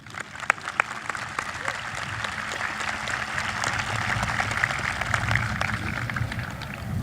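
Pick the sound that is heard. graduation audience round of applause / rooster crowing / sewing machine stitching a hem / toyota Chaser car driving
graduation audience round of applause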